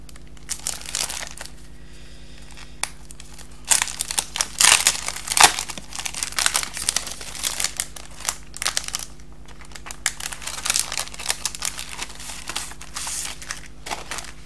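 Plastic wrapping on a craft supply package crinkles and crackles as it is torn open, in repeated loud close bursts with short pauses, alone without talk.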